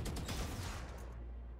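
Vandal rifle gunfire in the shooter game Valorant: a rapid, dense burst of loud automatic shots in the first second, then a short fading tail with no voices.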